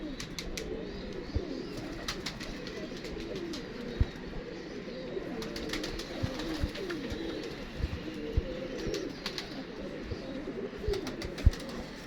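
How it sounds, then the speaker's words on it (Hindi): Pigeons coo softly and repeatedly in a loft, low throaty calls at a distance over faint background noise, with occasional small knocks and clicks. "ओरिजिनल कबूतर, और ये माशाल्लाह मेरा उड़ा हुआ कबूतर है"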